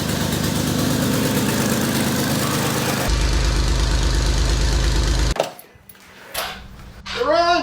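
A rebuilt Porsche engine starts and runs loud and rough for several seconds, then suddenly drops away, leaving quieter clatter and a voice speaking near the end.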